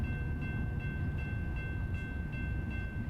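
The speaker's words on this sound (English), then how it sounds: "Stop for a train. It's coming to the left here." A long cargo train passes in American Truck Simulator, its constant heavy rumble carrying a faint, regular clatter of wheels roughly every half second, steady and unbroken with no voices.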